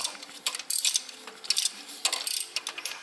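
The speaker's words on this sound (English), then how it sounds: "take a 5/8 socket wrench and just go at the spark plugs" A 5/8 socket wrench ratcheting while loosening spark plugs on a 2002 Toyota Corolla engine: rapid bursts of close, crisp metallic clicks in uneven runs, with no talking.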